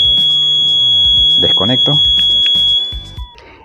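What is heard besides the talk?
motorhome alarm siren triggered by a cut wire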